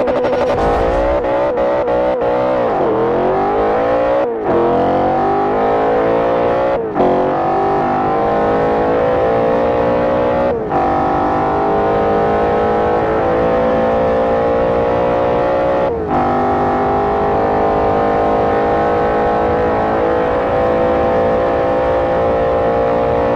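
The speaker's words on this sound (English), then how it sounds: "today we are doing a 1 mile drag with the 2011 Maserati Quattroporte Sport GTS from Forza Motorsport 4" A 2011 Maserati Quattroporte Sport GTS in Forza Motorsport 4, stock with no tuning, roaring loud and close through a one-mile drag run, revs climbing and dropping abruptly at each gear change, with a brief tire squeal at launch.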